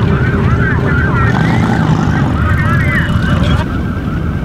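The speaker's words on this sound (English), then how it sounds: "I'm just gonna turn the sirens on and just get everybody out here." A police car siren wails with rising and falling sweeps at an off-road gathering of cheap cars in Detroit, sounding steadily over a dense, loud roar of engines and crowd noise throughout.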